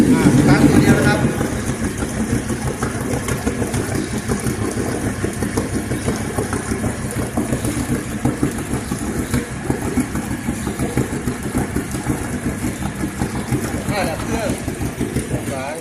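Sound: Suzuki drive-by-wire boat engine starting and idling

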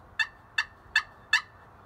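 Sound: slate friction turkey pot call clucking

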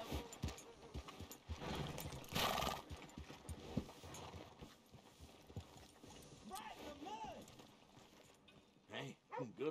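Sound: horse in the video game Red Dead Redemption 2

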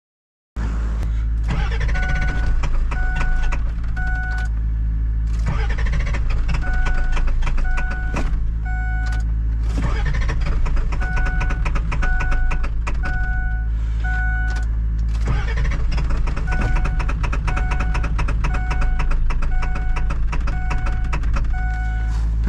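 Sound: Ford F-550 diesel truck engine cranking on cold start

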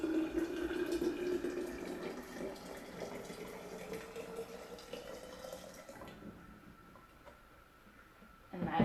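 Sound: pouring boiled water into an empty glass jar

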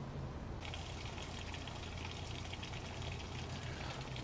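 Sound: water filling RV fresh water tank through hose

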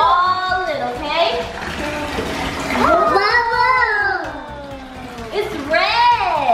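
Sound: bathtub filling with hot water

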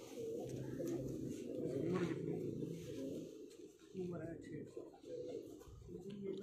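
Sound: pigeons cooing

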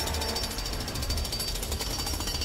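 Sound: Green Lantern drilling into ground in Lego Batman 3 video game

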